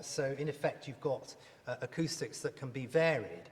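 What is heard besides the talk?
No everyday noises stand out.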